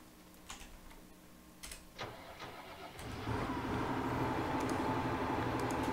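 A tractor engine in Farming Simulator 19 starts after a few clicks, cranks and then settles into a steady mid-pitched idle hum.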